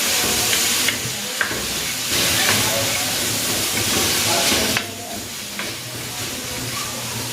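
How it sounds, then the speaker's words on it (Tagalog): Chicken breast sautéing in a pan with leftover lomo for pancit bihon, a steady close sizzle and hiss with occasional stirring scrapes, no talking. "igigisa ko na rin dito itong chicken breast"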